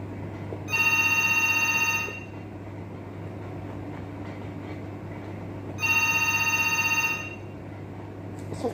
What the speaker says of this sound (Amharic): ስልክ ገባ ጋይስ፣